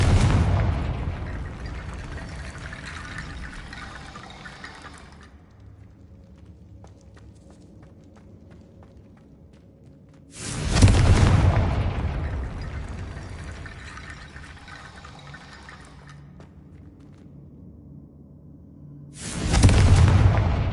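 Confringo fire-blast spell in Hogwarts Legacy: three loud, booming explosions about eight seconds apart, each a sudden burst that fades into a long rumbling decay, with faint ambient sounds between.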